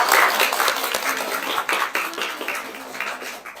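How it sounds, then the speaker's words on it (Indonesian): A classroom of students claps together in a short burst of applause, the many hands sounding close and dense before gradually thinning out. "Tepuk tangan untuk kita semua"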